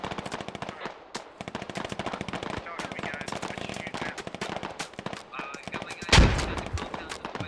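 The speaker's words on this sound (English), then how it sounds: "And the U.S. forces open up on INS on the roof." Rapid automatic gunfire from U.S. forces rattles in dense, continuous bursts during a military video game firefight, with a sharp louder blast near the end; voices murmur faintly beneath.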